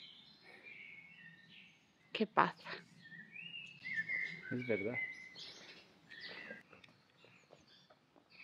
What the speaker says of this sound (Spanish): Y los pájaros, ¿qué os parecen?